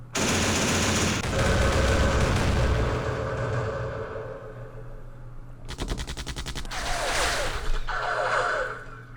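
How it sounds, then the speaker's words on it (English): Machine gun fire in the war game Campaign Series Vietnam rips out in loud, sustained bursts, with a rapid rattling volley later and heavy booming reports underneath. "Had the machine gun."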